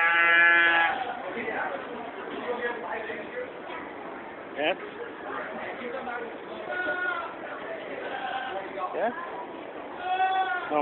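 Several goat bleats ring out, one loud near the start and more later, with people talking throughout.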